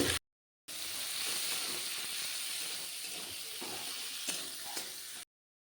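Cumin seeds, chopped onion and green chili sizzle steadily in hot oil, a loud continuous frying hiss close by with small pops and stirring.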